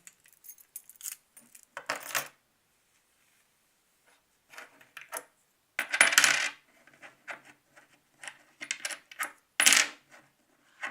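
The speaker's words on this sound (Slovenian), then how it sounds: "So pa kovanci, zdaj sluh vam pa tako zelo ne bo pomagal, da bi lahko pa ugotovili, da so pa mehiški pesosi" Mexican peso coins drop and jingle onto a hard surface in several separate bursts, with short metallic clinks and rattles between quiet gaps.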